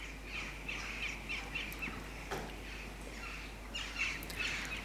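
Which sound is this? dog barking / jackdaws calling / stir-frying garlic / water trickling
jackdaws calling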